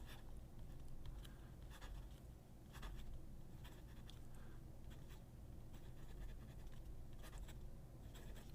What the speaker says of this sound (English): You can see the line variation in any event with this dip pen.